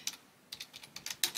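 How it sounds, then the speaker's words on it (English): Computer keyboard being typed on in short quiet bursts of clicky keystrokes, close by, with brief pauses between clusters. "I must just type a message to my boys while I'm talking to you"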